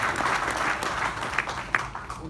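An audience at an agricultural product training session breaks into applause, a dense burst of clapping that carries through the whole short stretch and fades slightly toward the end.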